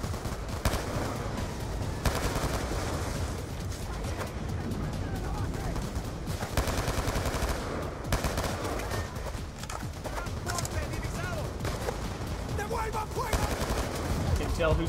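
Video game gunfire from Black Ops 2, dense bursts of automatic fire and single shots rattling almost continuously, loud and close, with battle noise and brief gaps between volleys.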